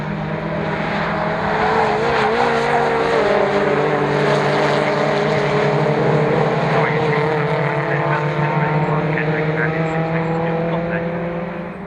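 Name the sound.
MG race cars racing past trackside at Croft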